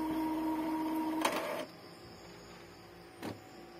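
An Epson L3210 inkjet printer runs a head-cleaning cycle, its steady motor whine and pump hum ending in a sharp mechanical clack, then a quieter idle with one more brief knock.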